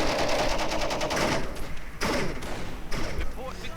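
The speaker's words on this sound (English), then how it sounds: "Naval infantry again opening up with those light machine gun" Light machine gun fire in the Company of Heroes video game, a rapid rattling burst at the start with thuds and sharp shots following, all under steady talk.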